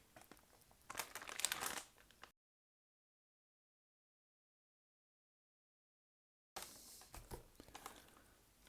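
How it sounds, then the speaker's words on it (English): A plastic bag of metal parts for a Kyosho Turbo Optima re-release RC car being opened, crinkling in short bursts close by, with a long silent gap between them. "Does it mean I need to open which plastic bag?"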